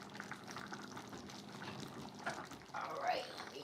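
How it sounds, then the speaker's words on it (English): Water runs over chopped kale in a kitchen as it gets a rinse. The splashing is moderate and steady, with speech faintly present. "I am going to give it a good little rinse."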